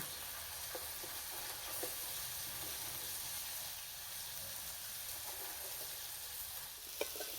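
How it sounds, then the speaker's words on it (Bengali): Egg curry bubbles and sizzles gently in a pan after the lid comes off, with a faint steady frying hiss and a few soft stirring scrapes, including a sharper tap near the end. "চাপাটা খুলে একটু নেড়ে দেব"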